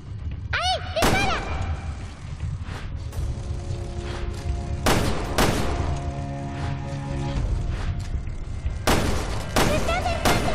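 Gunfire rings out in Resident Evil Revelations 2, several sharp shots spaced across a tense game scene, loud and close, with someone shouting in Spanish between and under the bursts.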